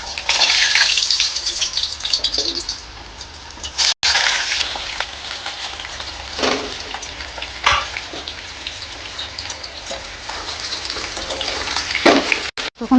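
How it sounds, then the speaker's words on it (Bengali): Boiled potatoes frying in hot mustard oil in a kadai give a steady close sizzle and crackle with bursts of spatter throughout, with no talk. "তেল গরম হয়ে গেছে, এবার আমি সেদ্ধ করা আলুগুলো ভেজে নেব।"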